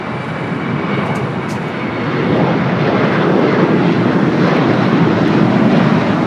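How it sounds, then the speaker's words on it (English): An Air Tahiti Nui Boeing 787 Dreamliner jet at Los Angeles airport, heard as a loud, continuous engine roar and rumble that grows stronger and fuller as it passes close by. "Tahiti Nui, the Dreamliner, coming from Papa Ete."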